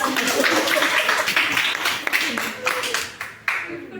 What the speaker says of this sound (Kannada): ಈ ಮನೆ ಸೊಸೆ ಗೆದ್ದ, ಇದಕ್ಕೊಂದು ಚಪ್ಪಾಳೆ ಬಿಡ್ರಿ.